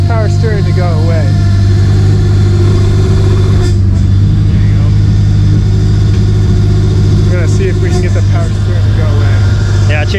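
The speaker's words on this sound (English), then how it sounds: "I could make the power steering noise go away, but man, does she sound good" A Subaru Forester STI engine idles steadily and loud throughout, a constant mechanical drone with a power steering whine riding on top, while people talk over it.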